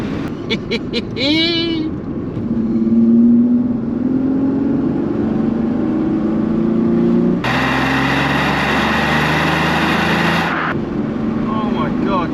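V6 Chevrolet Cavalier engine pulling under acceleration from inside the car with the sunroof and window open, a steady droning engine note that climbs in pitch, with a brief harsh burst midway and excited voices over it.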